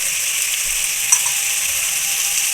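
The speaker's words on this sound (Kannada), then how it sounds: "ತರಕಾರಿನ ಚೆನ್ನಾಗಿ ಎಣ್ಣೆಲಿ ಫ್ರೈ ಮಾಡ್ಕೊಳ್ಳಿ" Vegetables fry in oil for a wedding-style vegetable pulao, giving a steady, close, continuous sizzle with no talking.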